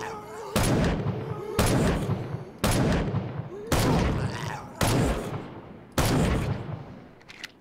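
Six loud booming gunshots ring out at roughly one-second intervals in a zombie shooting video game built in GameGuru, each blast trailing off in a short echo.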